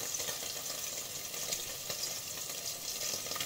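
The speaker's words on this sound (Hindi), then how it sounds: "जो प्याज तल कर रख लिए थे ना हम, अब इसमें मिला लेंगे वो भी प्याज।" Fried onions being stirred into a pan of egg biryani, with a steady close hiss of frying and soft scraping stir noises throughout, no voices.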